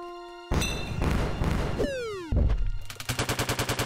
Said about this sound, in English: Was that an earthquake explosion?